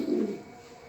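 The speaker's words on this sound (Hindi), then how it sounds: "ये भी बहुत प्यारा कबूतर है" A silver pigeon coos once, a short low throaty call close by, fading into quiet room tone.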